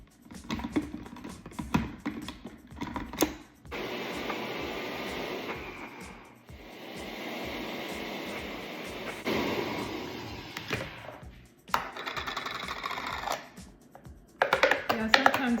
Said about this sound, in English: Now we're gonna blend.